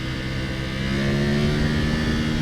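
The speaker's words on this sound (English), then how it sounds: "this feeling of riding a V4, but it revving so high" A 2021 Ducati Panigale V4 Superleggera spins its V4 engine to high revs while being ridden, a steady, loud, buzzing howl that climbs slightly in pitch.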